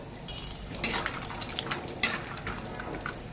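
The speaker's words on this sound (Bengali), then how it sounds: "বাদামগুলোকেও একটু ভেজে নেব" A steady sizzle of peanuts frying in hot oil, with a couple of sharper crackles and pops breaking through the continuous hiss.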